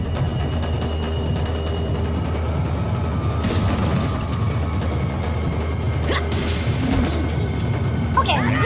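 Dynamite blows up in Resident Evil 4 with a single loud, sharp blast that rolls off into rumbling debris, while someone talks over the game's steady background noise.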